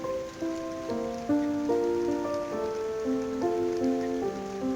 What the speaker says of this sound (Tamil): உங்களுக்கு மழை விழுற சவுண்ட் கேட்குதுன்னு நினைக்கிறேன்.